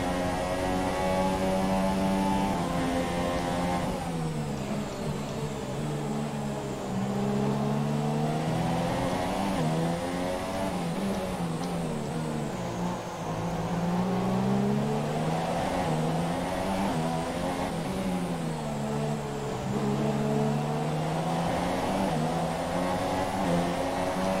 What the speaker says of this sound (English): we should be able to catch up to Palmer and be able to overtake him and get back up into the points